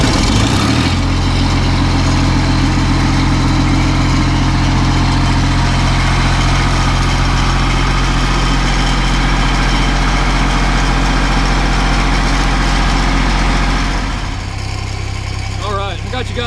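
An SA250 engine-driven welding machine runs at a steady, loud idle: a deep, continuous rumble that drops and changes near the end, close by.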